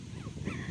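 A dog gives short, soft vocal yips and whimpers close by, a few brief sounds over a steady low background rumble, with no clear full bark.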